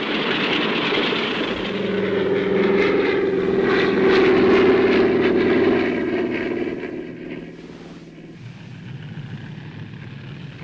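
A propeller airplane taking off with its engine droning loudly and steadily for several seconds, then easing off and fading somewhat toward the end, with no talking.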